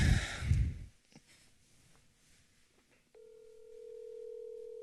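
A telephone dial tone comes in abruptly partway through and holds as a steady, moderately loud hum after some close breathing and faint handling sounds.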